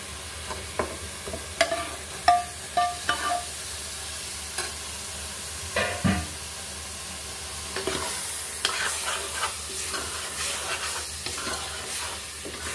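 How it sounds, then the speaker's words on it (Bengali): Pointed gourd (potol) is stirred and fried in a pan of cooked-down spices: a continuous close sizzle with repeated scraping spatula strokes, busier in the first half, with no talking. "এই পর্যায়ে আমি পটলগুলো দিয়ে দিচ্ছি"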